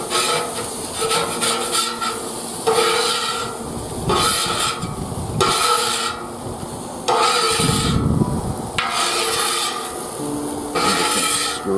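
A scraper rasps back and forth across a hot barbecue grill grate, loosening stuck residue in repeated loud, gritty strokes with short pauses between passes and no talking.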